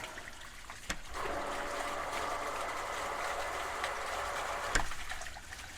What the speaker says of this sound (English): Should I test the pump?